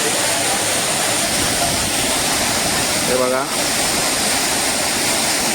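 Sawdav waterfall near Kankavli roars in a loud, unbroken wash of falling water, with someone speaking briefly over it.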